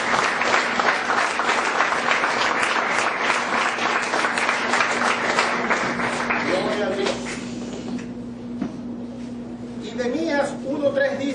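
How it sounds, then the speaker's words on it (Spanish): A church congregation applauds for Jesus during a sermon, sustained dense clapping from a crowd that fades after several seconds as a voice speaks over it, with a short swell of clapping near the end. "Vamos a brindar un aplauso a Jesús."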